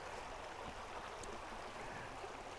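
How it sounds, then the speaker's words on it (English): A small creek running downhill beside a road on the Maine coast, giving a steady, broadband rush of flowing water that stays close and even throughout, with no voices. "I saw this little creek running down"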